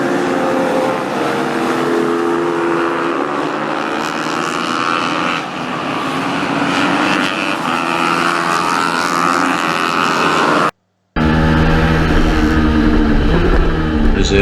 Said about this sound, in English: he's out on the Suzuki from AD Motors